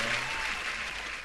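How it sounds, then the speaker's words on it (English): Applause from a small group during a casual sports podcast, a steady wash of clapping that is fairly quiet and lasts only a moment, with a brief low voice at the start. "We got to clap it up for him"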